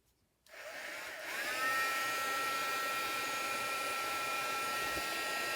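A heat gun blows with a steady whooshing roar after a silent start, rising slightly then holding constant and loud while it heats embossing powder.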